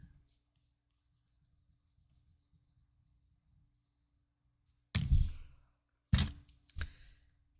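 A graphite pencil shading on paper for a Zentangle drawing: a faint, quiet stretch of soft scraping, then two short, louder rasping strokes close by.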